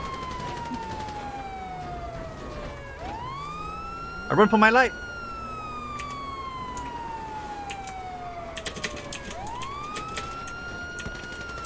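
A wailing police siren in a video game, rising and falling sweeps repeating steadily, with a voice talking over it and a brief loud burst of another sound midway.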